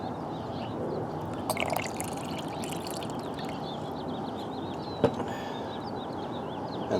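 Water rinses fine tungsten and magnetite concentrate around a gold pan in a steady, close wash of swishing and trickling, broken by one sharp click near the end.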